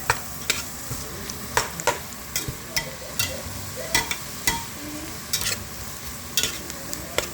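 Garlic, leeks and onions sautéing in butter for chicken noodle soup, a soft continuous sizzle with regular spoon scrapes and clacks against the pot, no talk.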